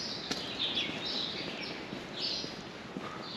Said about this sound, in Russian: Чирикают воробьи, судя по всему.